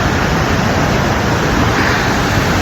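Loud, steady rushing of a waterfall or fast stream, broadband and continuous throughout, close and unbroken with no voices audible over it.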